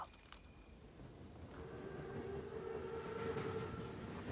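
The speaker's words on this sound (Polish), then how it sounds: "Trzeba szkopom przyznać, pociąg jest na czas." A large, heavily armoured train rolls past in the World War II video game Call of Duty WWII, a steady rumbling clatter that grows louder and nearer over a few seconds, with no voices.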